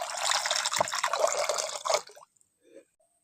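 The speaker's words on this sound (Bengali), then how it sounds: "কচুর ডাঁটা সিদ্ধ করার জন্য আমি এখন জলটা দিয়ে দিচ্ছি" Water poured from a vessel into a wok set on a lit stove for steaming taro stems, a steady splashing pour for about two seconds that stops abruptly, followed by a brief last trickle.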